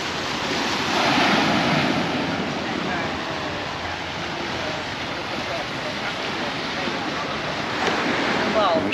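Surf washing onto a quiet beach at Palmanova, Mallorca, on a sunny December day. Continuous rolling wash with gusts of wind rumbling against the microphone, with no talk over it.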